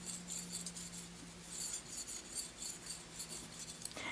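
A Bonika shear blade is sharpened on a finer-grit plate, giving a soft, steady rasping scrape in a quick, even rhythm of repeated strokes. It stays fairly quiet and close throughout.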